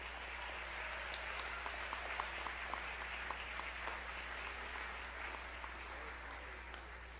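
Audience applause at a board of education meeting, steady moderate clapping from a crowd in a hall, heard fairly faint over a constant low hum.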